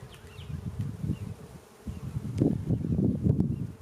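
Honeybees buzzing in an open hive, a close, fluttering drone of many wings rising and falling in uneven bursts, with no voices.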